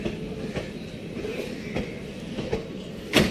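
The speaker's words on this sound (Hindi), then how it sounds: "ये ट्रेन ना यार्ड में लगने जा रही है, बहुत जल्दी जा रही है यार" A superfast express train pulls out of Delhi Sarai Rohilla station toward the yard, its wagons giving a steady rumbling roll with rhythmic clacks and a sharper screech at the end, heard from nearby.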